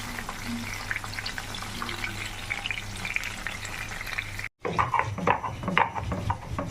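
Pabda fish frying lightly in a pan, giving a dense continuous sizzle with a brief drop to silence midway, then crackling spatters and clinks resume, no talking.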